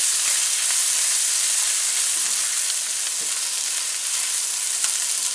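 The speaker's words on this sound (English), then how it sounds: "So you want to fry your onions until they get brown." Onions frying in butter give a steady close sizzle with fine crackling pops, continuous and fairly loud for the whole stretch with no voices.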